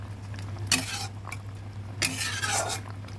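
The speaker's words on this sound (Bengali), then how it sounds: "ভালোভাবে নেড়ে দিচ্ছি" A spoon stirring Tengra fish curry in a metal pan gives two bright scraping, clinking bursts over a steady low hum, with quiet simmering in between.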